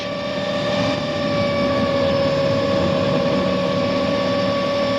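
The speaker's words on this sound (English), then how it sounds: "the engine's gone down onto 2 cylinders" A 2002 WRC rally car engine misfiring on only two cylinders during the Swedish Rally, a steady rough drone with strong harmonic tones, loud and continuous, running at low speed through a snowy stage.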